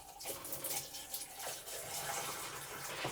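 Pink RV antifreeze poured into a bathtub drain, a soft, continuous splashing trickle of liquid, faint and close, with no talking.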